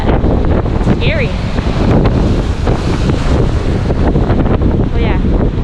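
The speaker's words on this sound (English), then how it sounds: "There's some big waves out here." Big storm waves crash and churn on Lake Michigan under a storm warning, with strong wind buffeting the microphone in a continuous loud roar; a voice calls out briefly over the noise.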